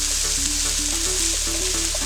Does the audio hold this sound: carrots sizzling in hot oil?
yes